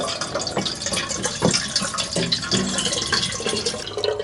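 Water pours into a Daymo Adventure-Q 1-litre bush camping kettle, a steady splashing fill with small drips and gurgles running continuously and close by.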